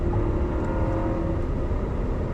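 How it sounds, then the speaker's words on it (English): A 1.6-litre turbocharged engine in a 2020 Hyundai Sonata Limited with an 8-speed automatic is floored, giving a steady, droning engine hum that does not change much, with no talk over it. "This engine doesn't really like to be revved."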